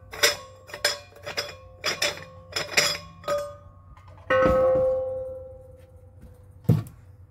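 Lid being taken off an oxygen tank for glassblowing, a string of bright metallic clinks and taps followed by a sustained ringing metal resonance that fades, then one last clank, close and without speech.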